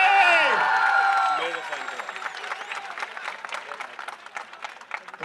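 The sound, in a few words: audience applause for Lala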